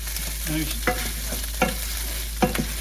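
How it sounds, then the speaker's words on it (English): Minced beef for cottage pie is stirred and broken up while it browns in a pan, giving a soft background sizzle and three or four sharp scraping strokes. "you just twist it round and break your meat up"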